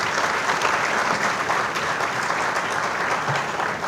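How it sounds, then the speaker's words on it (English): A school audience at a 75th anniversary launch and fundraising event claps in loud, sustained applause, a dense steady wash of hands throughout. "a big round of applause for the great job they have done for Maoli"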